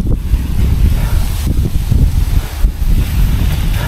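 Strong mountain wind high on Mount Wilis, on the Madiun hiking route, roars loud and unbroken across the microphone with heavy low buffeting throughout.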